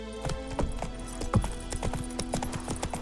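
In The Witcher 3, the horse Roach's hooves clip-clop steadily and close as it slows to a stop, over a low ambient game background.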